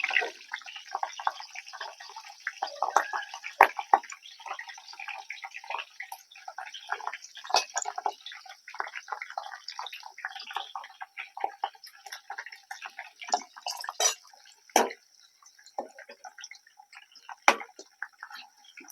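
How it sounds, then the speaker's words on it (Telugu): Curry leaves and green chillies crackle and sizzle in hot oil in a pan for a prawn curry, a steady dense spattering with sharper pops throughout, close and fairly quiet, no talking. "ముందుగా కరివేపాకు వేసుకుందాం తర్వాత పచ్చిమిర్చి వేసుకుందాం"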